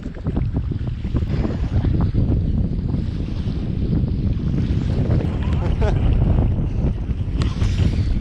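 A sea kayak paddles through choppy open water off Wardang Island, with splashing strokes and sloshing waves under heavy, constant wind buffeting the microphone.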